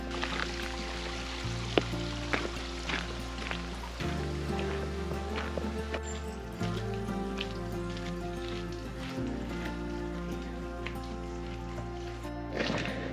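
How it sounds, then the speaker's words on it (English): Water runs off a mountainside through a natural drain, tumbling down like a small waterfall on a trail toward Andrews Bald. A steady, continuous rushing wash carries on throughout, with a low hum underneath. "This is like where the water runs off the mountain. A natural drain. It goes down there like a little waterfall."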